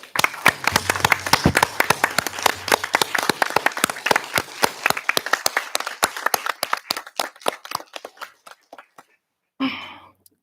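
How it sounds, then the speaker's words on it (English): A city council meeting audience applauds veterans standing in the room, many hands clapping in a dense, rapid burst that thins into scattered claps and fades out, followed by a brief murmur. "I'd love to give you an applause."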